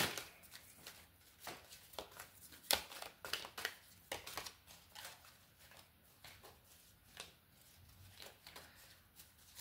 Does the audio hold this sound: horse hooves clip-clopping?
no